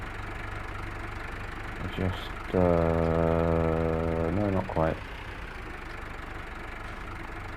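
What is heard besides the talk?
tractor engine idling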